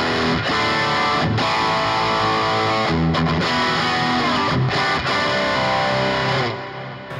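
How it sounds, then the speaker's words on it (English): Heavily distorted electric guitar through a Boss Katana amp's distortion effect plays chords and riffs, loud and saturated, with a few brief breaks between phrases. "I've got my distortion effect"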